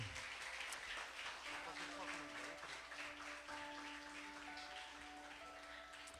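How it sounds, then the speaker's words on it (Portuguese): A church congregation claps for the Lord in a dense, continuous patter, heard at a modest distance with a steady tone or hum running underneath and faint murmuring voices. "Você pode dar uma salva de palmas ao Senhor?"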